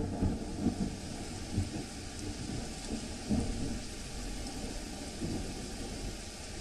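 Heavy monsoon rain pours down in Porbandar, Gujarat, with deep thunder rumbling several times under a constant loud hiss of rainfall.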